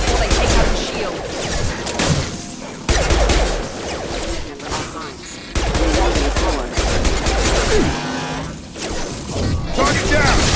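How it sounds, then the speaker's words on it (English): Sustained gunfire in Mass Effect 2 Legendary Edition, heavy repeated bursts and impacts pounding through a loud firefight for over ten seconds, with shouted voices over the shooting. "Shoot them before they take out the shields."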